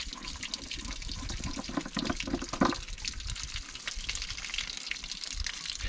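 Steady trickling and splashing of water draining from a pop-up camper's drain point during winterizing, with a brief louder splash midway, continuous and close by.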